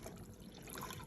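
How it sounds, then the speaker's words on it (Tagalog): Water pours steadily into a container of eggs being prepared as salted egg brine, a continuous close splashing fill with no talk. "ibubuhos na po namin dito yung tubig"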